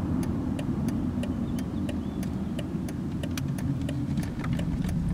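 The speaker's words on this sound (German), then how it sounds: "wenn ich einen engen Kreis fahre, wie so ein bisschen die Reifen ruppeln" A 2005 Mercedes W220 S500 4MATIC drives a tight circle in a parking lot, heard from inside as a steady low engine and road rumble with faint rhythmic ticking clicks on top.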